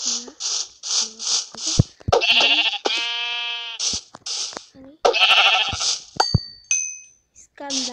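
Minecraft sheep bleating in repeated wavering calls, several overlapping with a few clicks and game sounds in between, close and fairly loud with no speech.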